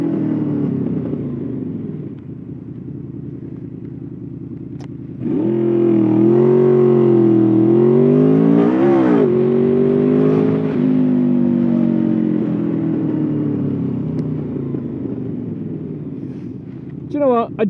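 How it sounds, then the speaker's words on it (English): A motorcycle with a loud exhaust rides past, its engine note swelling from about five seconds and holding loud and close with rising and falling revs before easing slightly toward the end. "I do think that a loud exhaust equals an aggressive rider."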